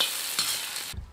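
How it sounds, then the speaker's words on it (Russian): Carrots fry and are stirred in a kazan, giving a bright steady sizzle with scraping stir strokes that cuts off abruptly near the end, leaving a brief low thump. "Закладываю морковь. Морковочкой обжарим."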